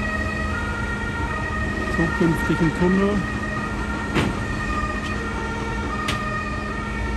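An ambulance siren sounds briefly beside a Stuttgart Stadtbahn tunnel construction site near Staatsgalerie, a faint wavering wail partly buried under a man's speech and steady site rumble.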